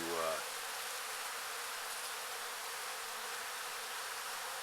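A steady, dense buzz of many bees swarming close by, continuous and fairly loud with no pauses throughout.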